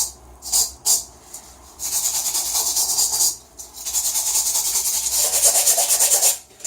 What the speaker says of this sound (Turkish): Bu tabakayı sökmek için şöyle çelik tel fırçadan yararlanayım dedim